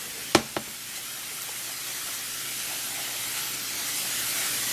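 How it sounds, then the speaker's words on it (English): A spray bottle mists an isopod enclosure: two sharp pumps up front, then a soft, steady hiss of fine water droplets drifting down, close and quiet with no talk. "I'm gonna spray them down well"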